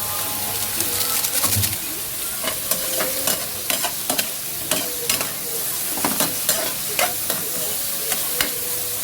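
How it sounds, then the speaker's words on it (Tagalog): Water spinach stems scraped and tossed in a pan for kangkong adobo with pineapple chunks, a steady string of close, sharp utensil scrapes over a soft continuous sizzle, with no talking. "Haluin lang natin guys ng bagya guys para ma-mix natin yung kanyang ingredients."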